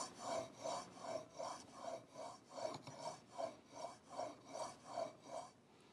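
A woodworking blade is honed in steady back-and-forth sharpening strokes, about a dozen even rasping rubs in a regular rhythm, close and quiet with no talking.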